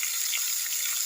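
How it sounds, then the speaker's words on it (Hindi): Tomatoes frying in a pan for Kathiawadi khichdi, a steady close hiss of sizzling oil for about a second with no voices. "और इस टमाटर को हम तब तक भूनेंगे"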